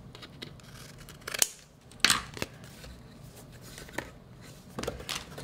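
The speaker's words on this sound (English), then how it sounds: "I'm going to trim my edges here" Scissors trimming the edges of cardboard for a mixed media assemblage, a few sharp separate snips spread across a quiet room with no one talking.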